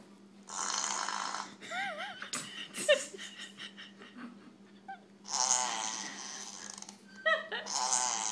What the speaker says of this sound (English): Fart machine extreme. Fart will be triggered by sound, movement, and touch.